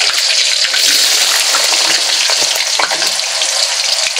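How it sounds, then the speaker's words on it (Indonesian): Cut tofu pieces frying in hot oil, a dense, steady sizzle and crackle that fills the whole stretch with no pauses, loud and close. "Sekarang karena minyaknya sudah panas, kita masukin tahunya. Kita goreng tahu dulu."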